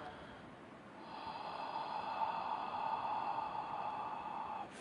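A long, slow exhale of breath during a guided breathing practice, a soft airy hiss that swells and fades over several seconds, close and quiet.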